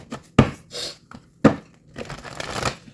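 A deck of tarot cards is shuffled by hand in two sharp riffling bursts, followed by softer papery sliding and tapping, close and alone.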